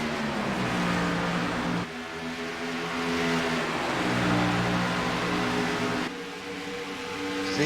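Race cars in a Cup series race at Dover Downs roar down the front straightaway, engines droning loudly and continuously with shifting pitch as the pack passes, and no clear voices over them.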